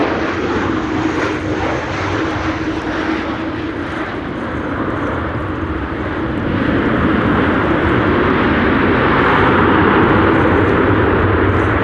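Ryanair flight 420 from Dublin comes in to land at a windy Amsterdam Schiphol, its jet engines a steady loud rumble and whine that swells slightly toward the end, with no talking.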